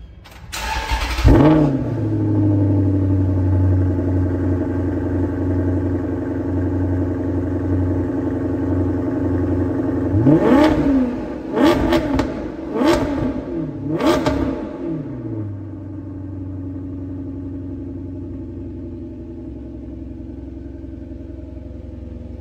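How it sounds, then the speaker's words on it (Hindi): A Maserati GTS engine starts with a loud crank and catch, settles into a deep idle, then several sharp exhaust revs blip in succession before the note drops back to a quieter idle, close by with no talk. "तो अभी आप सुनने जा रहे मजेराटी GTS का एग्जॉस्ट।"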